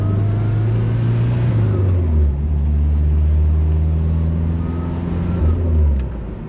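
A rare old sports car, parked for 35 years and running with no muffler, idles loud and raw, its deep exhaust drone rising and falling through several revs close by.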